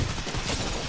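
Fireworks going off in a chaotic multiplayer video game, a dense, loud burst of overlapping crackling explosions filling the moment with no pause.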